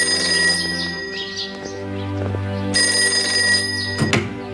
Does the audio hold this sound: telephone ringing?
yes